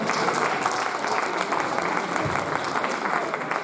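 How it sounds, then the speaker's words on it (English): A seated audience at a community event applauds a self-taught young guitarist, with dense, steady clapping that sounds moderately near and holds evenly from start to finish. "So big round of applause for Vikram."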